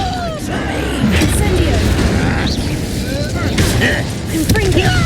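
A Confringo fire spell in Hogwarts Legacy bursts into a loud, continuous rumbling blast with crackling debris, mixed with combat sounds and voices throughout.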